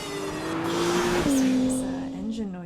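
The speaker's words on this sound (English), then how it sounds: "There's engine noises here too" An Acura car engine on a test track in the Mojave Desert, a loud sustained engine tone that rises and shifts as the car passes close by, with a brief tire squeal mixed in.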